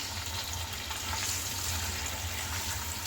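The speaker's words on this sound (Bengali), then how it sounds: "এবার পেঁয়াজটাকে আমি ভালোভাবে কষিয়ে নিব 7-8 মিনিট" Onions sautéing in four tablespoons of oil in a pan for a Bangladeshi chicken handi, giving a steady close sizzle and hiss that runs unbroken throughout, with no talking.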